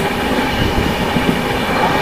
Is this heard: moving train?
yes